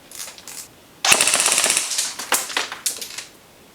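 A Classic Army G36C airsoft electric gun on an 8.4 volt battery fires loud, close full-auto bursts: a short rattle, then a long rapid burst followed by several shorter ones, with no talk.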